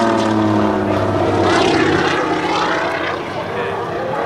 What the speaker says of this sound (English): It is powered with a 9-cylinder, 500 horsepower, Pratt & Whitney,